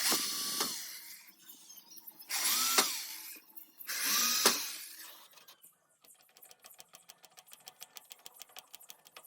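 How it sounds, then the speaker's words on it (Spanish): A power drill driving screws into a wooden piece clamped in place, with three loud rising whirring bursts followed by a rapid ratcheting rattle as the screw seats, close up and with no voices. "Repetimos la operación con el taladro y colocamos los tornillos."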